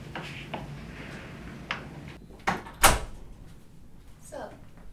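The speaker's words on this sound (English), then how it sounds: "Close the door, please." A door swings shut in an office with a sharp thud near the middle, amid faint room tone and brief quiet voices before and after.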